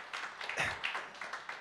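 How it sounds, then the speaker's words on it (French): A church congregation applauds a worship group after a morning service, a short burst of scattered clapping that swells briefly and stays fairly close. "est-ce qu'on pourrait remercier le groupe de louanges, les applaudir?"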